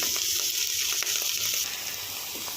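Eggplant pieces fry in a pan for a curry with a steady, continuous sizzle and a few faint scrapes, close and fairly loud, with no talking.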